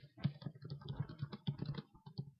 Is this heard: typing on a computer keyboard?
yes